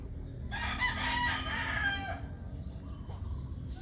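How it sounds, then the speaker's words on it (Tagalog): A red junglefowl crows once, a clear multi-part call lasting about a second and a half at moderate distance over steady background hum in a village setting. "ang galing oh imagine may labuyo dito sa BB Village"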